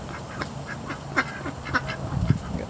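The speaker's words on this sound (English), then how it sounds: "Ducks are really enjoying their pond." Ducks at a backyard pond in a Florida garden, giving several scattered quacks at a moderate distance over a faint outdoor background, with no talk.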